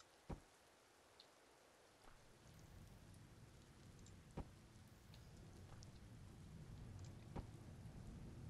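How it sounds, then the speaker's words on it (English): Rain falls outside in Empyrion Galactic Survival, a steady faint hiss of rainfall that thickens after the first couple of seconds, with a few sharp drop-like ticks scattered through and no talk. "Man, it's still raining outside."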